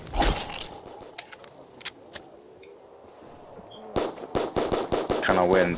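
Weapon fire in a custom Call of Duty zombies video game, with scattered single shots early on, then a rapid run of loud, close shots near the end over low background game noise.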